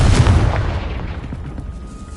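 A Confringo blasting spell explodes in Hogwarts Legacy, a loud close boom with a heavy rumbling low end that decays gradually over about two seconds.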